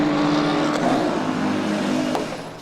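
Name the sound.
Porsche race car coming into the pits for a driver change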